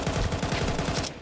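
Automatic gunfire from Counter-Strike 2 in an amateur tournament match: a loud, rapid burst of closely spaced shots that fades at the end.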